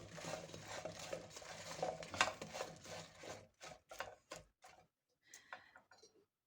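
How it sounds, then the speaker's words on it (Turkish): A spoon scrapes and knocks around inside a pot of Brussels sprouts with sugar and salt, first a continuous clattering stir, then a series of separate metallic taps and scrapes. "Yine karıştırıyorum."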